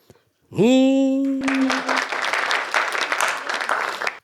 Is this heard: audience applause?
yes